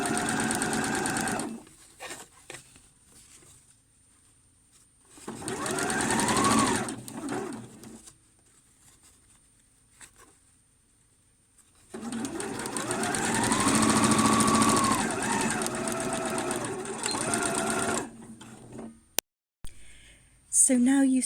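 A sewing machine runs in long bursts stitching bias binding along a pyjama hem, whirring steadily with pauses between runs, close by, with a voice talking in the gaps.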